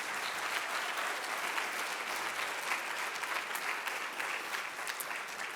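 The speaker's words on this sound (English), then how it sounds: "Let's give them all one more round of applause." Steady, dense applause from an event audience at a women of color awards ceremony, continuous and even throughout with no break.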